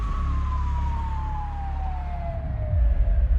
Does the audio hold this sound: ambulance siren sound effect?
yes